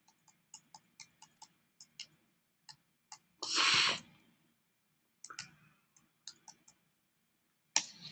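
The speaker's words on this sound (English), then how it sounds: "I'll go ahead and type it out for you." Keys tapped on a computer keyboard in short, irregular bursts of crisp clicks, close and fairly quiet, with one louder noisy burst partway through and brief pauses between runs of typing.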